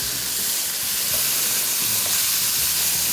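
Chicken and shrimp mixture for biryani frying and being stirred over high heat, a loud continuous sizzle with scraping and stirring beneath it, no speech.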